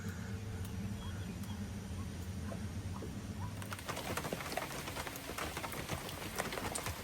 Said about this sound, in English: Started to rain.